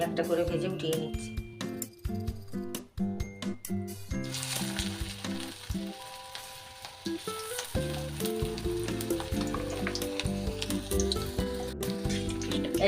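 Liver kofta balls frying in hot oil, a steady sizzle with metal clinks as they are lifted out one by one, partly under a loud music bed.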